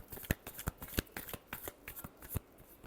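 Tarot cards being shuffled by hand, a quick run of crisp riffling snaps and slaps repeating every fraction of a second, close and fairly quiet with no voice over it.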